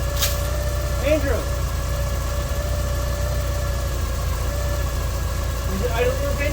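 A car engine, just started after winter storage, idles with a steady low rumble and faint hum, a voice speaking briefly over it now and then.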